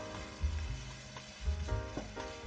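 Chopped garlic sizzles in hot oil in a frying pan with onion. The frying hiss is steady and close, and a few louder bursts come through as the pan is stirred.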